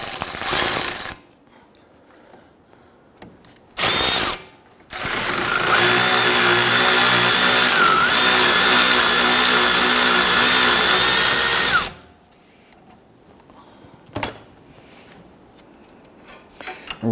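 A power tool breaks loose a 15mm wheel hub bolt on a Dodge Charger front suspension, with a short whir, a brief burst, then a long steady loud buzzing run, followed by quiet and a faint click.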